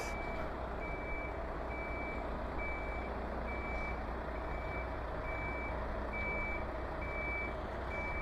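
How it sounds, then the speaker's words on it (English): A truck reversing a trailer sounds a steady, regularly spaced reverse-warning beep over a constant low engine rumble, with the beeps clear and evenly timed throughout. "We've got the annoying reverse bleeper"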